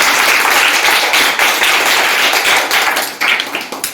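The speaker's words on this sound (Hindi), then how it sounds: "इनके लिए तालियां।" A classroom of students applauding a classmate in a school science lesson, loud dense clapping from many hands close by, continuous for several seconds before tapering off.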